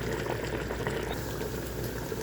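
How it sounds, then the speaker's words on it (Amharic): Water poured into a pot of rice cooking with turmeric, giving a steady, close liquid rushing and bubbling sound that runs unbroken throughout. "እንደዚህ ውሃችንን እንጨምራለን ማለት ነው።"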